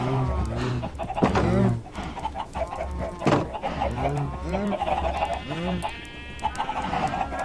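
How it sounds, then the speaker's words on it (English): Chickens clucking in Minecraft, a cluster of repeated clucks and squawks from several farm animals nearby, with other livestock sounds such as sheep in the mix. "Tons of chickens."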